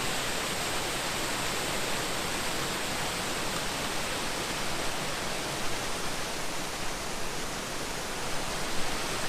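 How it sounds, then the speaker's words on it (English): Chiquito Falls in Cleveland National Forest flowing steadily, a broad, even roar of falling water heard close and unchanging throughout, with no voices. "This is the waterfall. It actually flows pretty good."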